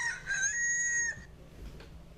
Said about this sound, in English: That rooster sounds like it's being strangled or something.